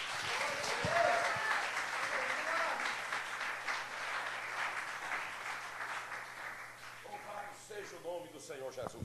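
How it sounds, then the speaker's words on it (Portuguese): A church congregation applauds during a worship service, with broadband clapping sustained throughout and some voices and shouts mixed in, tapering slightly near the end. "estufa o peito da glória a Deus e aplauda ao Senhor Jesus."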